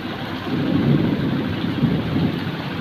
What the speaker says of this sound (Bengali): এখন অনেক বৃষ্টি মানুষের অবশ্য সমস্যা হচ্ছে তারপরও বৃষ্টি তো আর